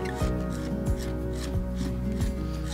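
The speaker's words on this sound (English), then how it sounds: "I'm going to see if I can use this metal tool on the outside here." A metal tool scrapes the outside of a handmade clay pot in four or five slow, even rasping strokes, close by, over a steady background hum.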